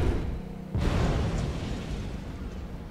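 A car crash explosion in Lego City Undercover bursts suddenly after a low hum, a loud booming blast that rumbles and fades slowly with no talk.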